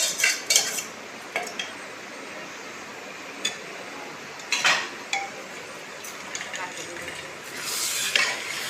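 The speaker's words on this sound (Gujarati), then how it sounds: "હવે ખીચડી એમાં નાખી દઈએ" Washed rice and lentils for khichdi go into a pressure cooker, with scattered metallic clinks, scrapes and soft pours spaced across the stretch at close range, and quiet talk between them.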